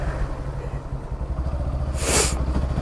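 Yamaha FZ motorcycle riding just after a full service, its engine giving a steady low rumble with a brief brighter hiss partway through, continuous and fairly loud.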